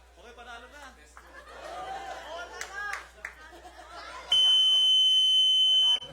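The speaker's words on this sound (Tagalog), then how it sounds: "Nakatest na ang buzzer" People chatter and laugh, then a loud, steady electronic buzzer sounds for under two seconds before cutting off.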